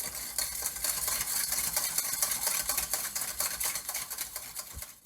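A utensil stirs lemon juice, sugar and limoncello in a bowl for a tiramisu, a continuous close scraping and swishing with light clinks and no talking.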